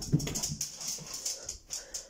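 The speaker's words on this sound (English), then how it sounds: "What are you barking at?" Inside a house, a dog makes quick, moderately loud sounds close by, short yips and panting huffs repeating in an uneven rhythm, with no talking.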